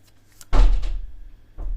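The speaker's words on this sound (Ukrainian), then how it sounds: "це в мене вітром двері" A door pushed by the wind thuds shut in a home kitchen while winter preserves are being prepared, one loud knock with a short rattle that fades, then a softer bump.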